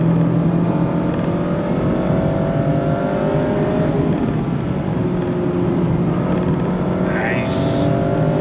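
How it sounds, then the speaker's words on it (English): A 2025 Mazda MX-5 Miata sports car pulls away from a dead stop, its engine droning steadily and rising in pitch from inside the cabin, loud and continuous throughout. "On throttle, here we go! So easy to launch from a dead stop."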